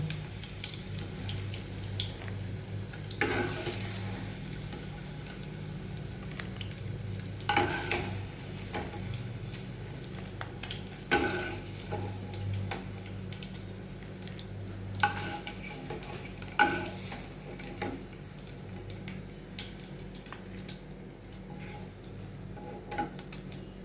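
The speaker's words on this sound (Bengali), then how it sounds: "আরও কিছুটা পনির আছে সেটাকেও আমি ভেজে নেব" Paneer cubes frying in oil in a pan: a continuous low sizzle with occasional louder scraping stirs and utensil clicks against the pan, close by and steady, with no talking.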